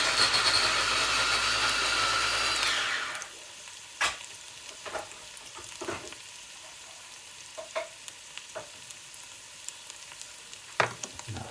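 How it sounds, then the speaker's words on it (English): Onions sizzle loudly in a hot pan for a few seconds, then the frying drops to a quiet hiss broken by occasional clinks and scrapes of stirring. "There's the onions, they're frying now"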